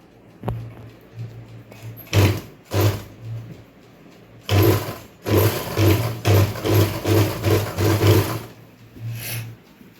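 A pico sewing machine stitches fabric in bursts, loud rhythmic mechanical thumping and whirring runs that start and stop several times, close up.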